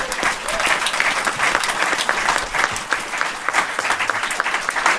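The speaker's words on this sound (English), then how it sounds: "Give yourselves a round of applause." A live audience at a Gen Con 2017 podcast recording claps steadily in dense, sustained applause throughout, with a few faint voices mixed into the crowd.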